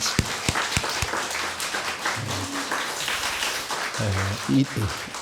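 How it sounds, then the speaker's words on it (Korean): A church congregation gives a brief patter of applause during a Sunday service, mixed with scattered claps and a speaking voice. "양영주 집사님 잠깐 자리에 일어나시기 바랍니다. 저기 뒤에 계십니다. 예, 박수 한번 하면"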